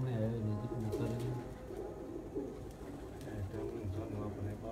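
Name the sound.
racing pigeons cooing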